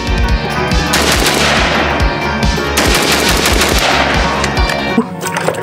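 Rapid automatic fire from a toy AK-47 gun, loud and close, a sustained rattling burst of repeated shots that runs for several seconds before cutting off near the end.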